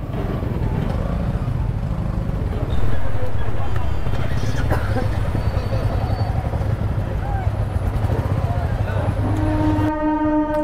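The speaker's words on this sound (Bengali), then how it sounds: "এখন একটা ট্রেন যাচ্ছে।" A train rumbles past nearby at Chandrakona with a steady low roar, rising in loudness partway through, with people talking over it and a horn-like tone near the end.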